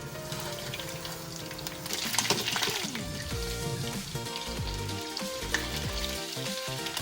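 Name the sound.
Swedish meatballs frying in hot oil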